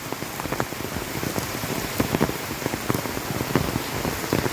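Heavy rain pours down at a Bholenath temple, a loud, dense, continuous patter of drops striking hard surfaces with no voices over it.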